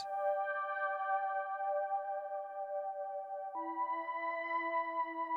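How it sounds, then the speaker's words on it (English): Soft, sustained synth pad chords with smooth harmonic layers, shifting to a new chord partway through; steady and mellow with no talking. "I'm making use of some nice kind of soft pads that sound like this"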